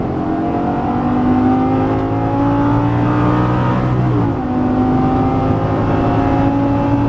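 A Lamborghini Gallardo LP 550-2 engine roars close and loud as it accelerates on a racetrack, its pitch climbing steadily, dipping briefly with a gear change, then climbing again.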